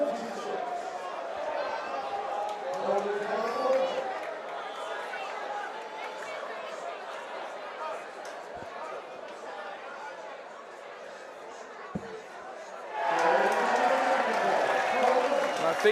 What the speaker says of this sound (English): I think you can hear by the noise of the crowd